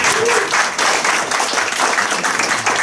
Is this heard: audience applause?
yes